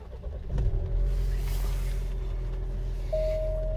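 A 2019 Alfa Romeo Giulia 2.0 fires up with a quick starter crank and then settles into a steady, close, low idle hum, with a faint warning chime near the end.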